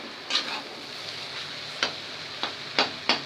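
Shark fish puttu fries and roasts in a pan over low heat, a soft steady sizzle punctuated by several sharp scraping clicks of a spatula spreading and stirring the mixture.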